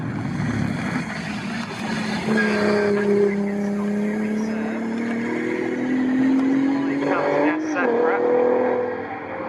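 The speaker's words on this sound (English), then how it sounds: "although Sacra really sounds like he's having to fight that gearbox a little bit. Rough changes" Race cars lap the circuit during a Clubsport Trophy race at Snetterton, engine notes rising and dropping in pitch across a gear change that sounds rough, with a commentator talking over the steady, moderately loud drone.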